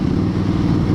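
A Victory Octane motorcycle fitted with an RPW full exhaust cruises at low revs, giving a steady, deep, loud engine rumble.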